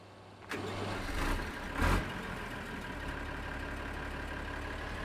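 Tractor engine in the farming game Farming Simulator 2013 rumbles at a steady idle for several seconds after a brief start-up surge, with no talking over it.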